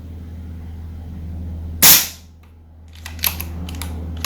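A single sharp, loud report from an RTI Arms Prophet air rifle cracks out over a steady low hum, then fades quickly, followed by a few faint clicks and ticks; no voices.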